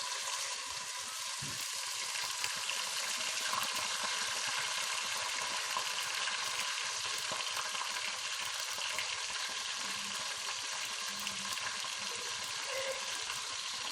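Ginger garlic paste fries in hot oil in a pan for a Swati chicken korma, giving a steady, loud, unbroken sizzle that stays close and even throughout, with no talking.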